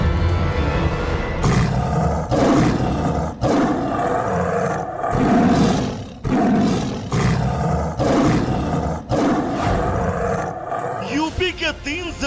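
A man-eating tiger in Uttar Pradesh roars loudly and almost without pause, deep rumbling roars that rise and fall in long waves with a few brief gaps.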